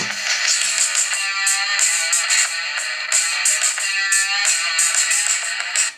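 Loud, bright music plays through a Wiko Kar 2 phone's small loudspeaker at full volume, tinny and thin with little bass, continuous for several seconds.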